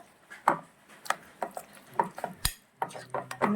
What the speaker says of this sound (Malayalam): ലാസ്റ്റ് നമ്മൾ ഒരു സ്പൂണ് പച്ചവെളിച്ചെണ്ണയും കൂടി എടു ഒഴിച്ച് ഇളക്കിയെടുക്കുവാണ്